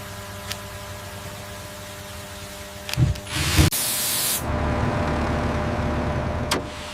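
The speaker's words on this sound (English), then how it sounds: "The circuit board is cleaned with contact cleaner." Contact cleaner sprays onto the circuit board of a joystick from a 2003 Dewulf R3000 potato harvester, giving a close hissing burst of about a second and a longer hiss after it, over a quiet background hum.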